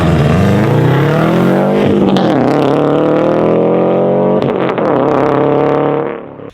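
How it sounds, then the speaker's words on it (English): A Subaru STI fitted with an aggressive rear diffuser launches hard, its loud engine revving up through rising harmonics with a brief shift dip midway and again near the end, close and sustained before cutting off. "Chino wants to launch his car"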